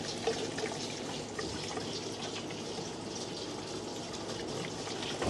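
Faint, continuous liquid trickle and gurgle as fuel is drawn up through the fuel line of a 1958 Plymouth, a steady low wash with no voices.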